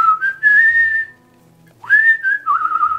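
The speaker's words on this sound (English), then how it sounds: "Did you know I'm a really good whistler?" A person whistles a short tune, loud and close, two clear melodic phrases separated by a brief pause, with no other sounds around it.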